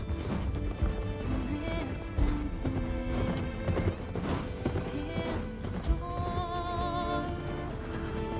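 Rapid hoofbeats of a galloping horse pound steadily in Horizon Forbidden West, with a whinny and game music layered over the busy clatter.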